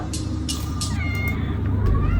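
A cat meows in the video game Grounded, giving a few drawn-out cries over a muffled background hum, with short clicks and a voice nearby.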